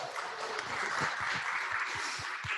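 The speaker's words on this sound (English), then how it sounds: "Let's give her a round of applause." A small audience breaks into applause, a steady patter of hand claps at moderate distance, fairly soft and brief, with individual claps audible through the wash.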